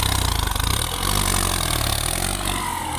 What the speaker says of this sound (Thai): กับรถไถคูปต้า M8540 ตู้แอร์